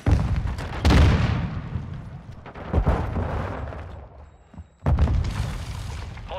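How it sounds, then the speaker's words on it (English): Semtex grenade in Modern Warfare 2 going off as a series of heavy booming blasts, each loud burst trailing into rumble, with a brief lull before a final explosion. "Throwing Semtex."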